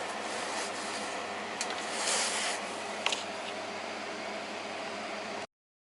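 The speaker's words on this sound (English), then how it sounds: "what we're doing here is machining what will be the side faces, I don't know whether you call them flanges or what, to the connecting rods" Steel connecting rods for a paddle steamer engine having their side faces turned on a lathe, giving a steady, close hiss of cutting with a few brief sharper scrapes partway through and no talking.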